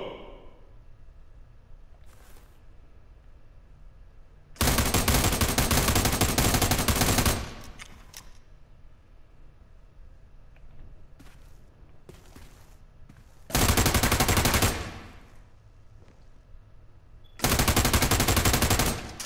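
Loud, sustained bursts of automatic fire in the shooter America's Army: Proving Grounds, three long volleys of several seconds each separated by quieter stretches with a few faint isolated shots.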